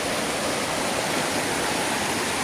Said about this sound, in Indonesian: seperti inilah keadaan sungai di dekat kebun kita ya